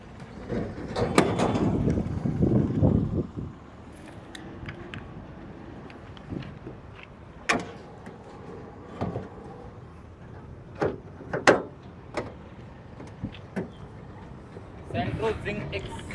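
Doors of a used 2007 Hyundai Santro at a second-hand car lot open and shut, giving several sharp clicks and thunks spread across the stretch, with a voice talking at the start and near the end.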